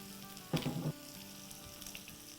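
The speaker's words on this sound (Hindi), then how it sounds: "हम थोड़ा सा इसमें तेल डालेंगे, अराउंड 1 टेबल स्पून तेल डालेंगे हम। और इसमें हम डाल देंगे अपना गार्लिक" Garlic hits about a tablespoon of hot oil on a tawa, giving a short, close sizzle burst that fades quickly into a faint background hiss.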